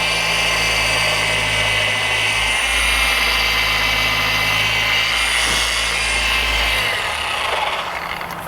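A Rupes polisher runs steadily to prime its pad, a loud continuous motor whir that holds for several seconds, then dips slightly near the end. No one talks.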